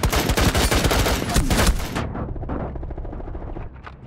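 Rapid, loud gunfire bursts from the video game Rainbow Six Siege crackle densely for about two seconds, then drop to a quieter rumble with fainter scattered shots.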